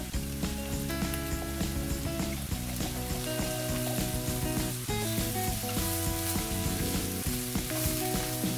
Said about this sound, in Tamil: நான் வந்து கடைசியில் கொஞ்சமாக பட்டர் சேர்த்து வதக்கி விடுறேன்